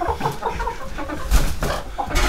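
Several chickens cluck and squawk agitatedly over each other as a dominant hen picks fights, close by, with sharp bursts of noise.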